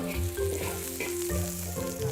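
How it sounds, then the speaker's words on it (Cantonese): Minced garlic and shredded ginger sizzling in a hot wok, a loud crackling fry with stirring scrapes, accompanied by background music. "蒜蓉同薑絲爆香"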